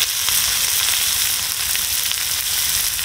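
Chopped onion, peeled garlic, chilli and ginger frying in a pan, a steady, loud, close sizzle with a dense crackle running unbroken throughout.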